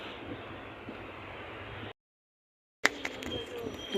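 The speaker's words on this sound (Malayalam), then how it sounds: "അങ്ങനെ ട്രെയിൻ പോകുന്നതാണ്." Train travelling from Kollam toward Tenkasi in the early morning, a steady close rumble of the railway carriage in motion, cut by a brief silent gap before the running noise returns with a few clanks.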